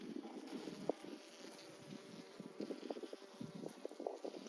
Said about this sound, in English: Or is it just because there's so many bees in here and they've been closed up for so long?